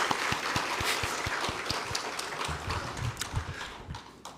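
A church congregation claps in thanks after a pastor's sermon at an early-morning prayer service, a steady patter of hands that is fairly faint and thins out toward the end, with no talking over it.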